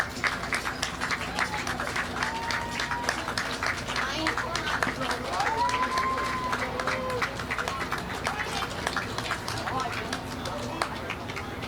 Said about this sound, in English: Nice round of applause from the crowd.